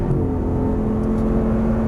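An Audi R8 engine pulling after an upshift, a loud steady droning whine held close throughout the short stretch, no talk.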